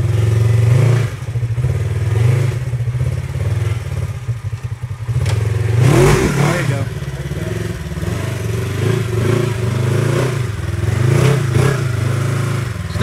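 An off-road vehicle's engine revs and strains while climbing a rocky trail at Windrock, sustained throttle rising and falling with clattering, thumping and scraping over rock, close and loud with no talk.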